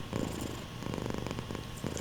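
A contented pet cat purring loudly right next to the listener, a thick steady rhythmic rumble with breathy pulses, no voices.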